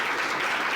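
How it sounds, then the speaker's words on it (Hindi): Applause from a seminar audience, a dense, steady wash of many hands clapping together with no break, fairly loud and close for under a second. "एक बार ताली डालो भाई"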